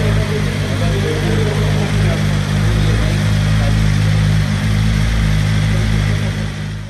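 A 2021 BMW M1000RR motorcycle engine running loud and close, a constant low, rumbling drone with a strong, steady hum and little change in pitch.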